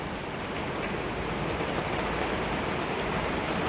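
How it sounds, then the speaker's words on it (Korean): Heavy August rain pours down near beehives in Ilsan, a loud, dense, unbroken roar of falling water with no voices. "비가 오부지게 와갖고 벌통 근처에 가지도 못합니다"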